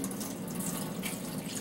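Filtered water is poured over soaked buckwheat groats in a strainer at a sink, a soft, steady splashing trickle, fairly faint and continuous, with no talking.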